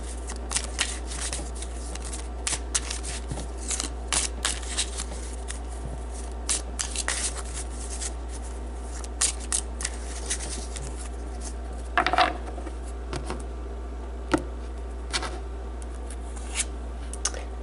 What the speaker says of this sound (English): So let's draw some Gypsy cards to get